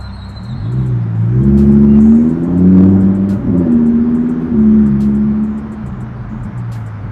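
A Lamborghini sports car accelerates hard, its loud engine note climbing and shifting through several gear changes in rising and falling waves, heard close up from inside the car.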